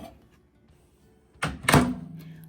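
Microwave oven used to heat ghee in a bowl: after quiet room tone, a solid thunk of the door closing, then a beep and the low hum of the oven starting.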